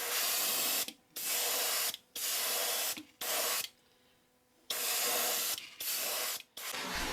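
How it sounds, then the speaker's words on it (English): Polyacrylic mid coat is sprayed onto a PVC minnow bass lure in about seven short, close hissing bursts separated by brief pauses. "spray this with a couple of coats of polyacrylic as a mid coat"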